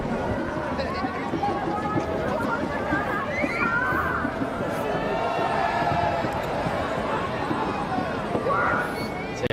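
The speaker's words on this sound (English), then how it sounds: "we've got a fantastic crowd in here today. The place is humming at the moment" A big crowd at a Pakistan versus South Africa cricket match keeps up a dense, steady roar and buzz throughout, with a commentator talking over it.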